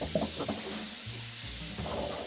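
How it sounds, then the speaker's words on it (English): Squid sautés in a hot pan with garlic and pepper for a squid adobo, giving a steady close sizzle and frying hiss with a few stirring clatters. "you add the squid"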